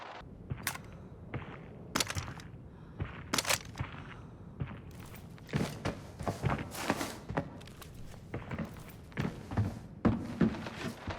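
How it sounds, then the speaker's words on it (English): Footsteps in Arena Breakout, a multiplayer shooter, approaching through a TV station's passageways, heard as a steady run of dull thuds that grow louder and closer toward the end, with sharp clicks and clatters mixed in. "the footsteps grew louder"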